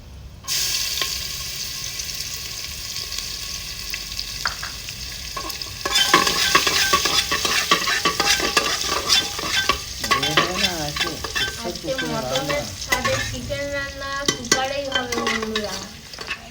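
Crushed garlic, cloves and cardamom hit hot oil in a pan with a sudden loud sizzle, then keep frying steadily while a spoon scrapes and stirs, close up and continuous.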